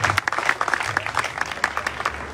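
An audience at a basketball club's season launch evening applauds, a brief burst of crisp, fairly close clapping from a modest crowd with individual claps standing out.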